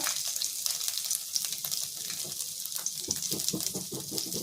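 Dried red chili, cumin and ginger hitting hot oil for a drumstick curry, a soft crackling sizzle with scattered pops and light clinks, fairly quiet and without speech.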